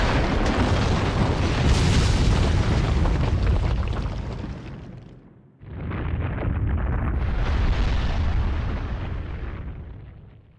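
Explosions from the Naruto Shippuden: Ultimate Ninja Storm 2 video game roar as a loud, sustained blast. The rumble fades out, and then a second big burst follows and swells before trailing off.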